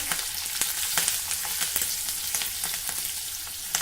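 Peanuts frying and being stirred in a pan on the stove, a steady close sizzle with regular scraping taps of the spoon running throughout, with no talk.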